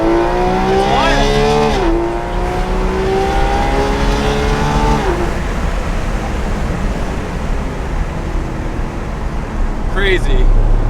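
A Porsche 991.2 GT3 RS makes a launch start with a little wheel spin: a loud, high-revving engine climbs sharply through a couple of gear changes, then fades into road and wind noise, with a brief voice near the end.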